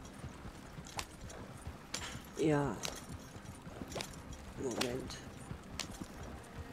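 Hooves of a horse in the video game Red Dead Online clip-clopping at a steady gallop under game ambience, with brief whinny-like tones and someone talking over it.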